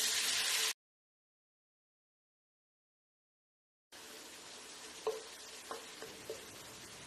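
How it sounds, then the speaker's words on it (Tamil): Steady soft sizzling of tomatoes sautéing in a pan for mutton dum biryani, with a brief gap of silence and a few light stirring clicks. "தக்காளி மசிகிற அளவுக்கு வதங்கட்டும்."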